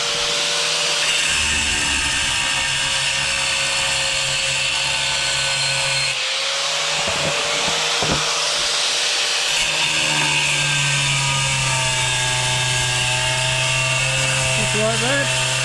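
An angle grinder cuts a round hole in tile with a loud, continuous high whine and gritty rasp, its pitch shifting as the disc is worked round and round, with a brief dip midway.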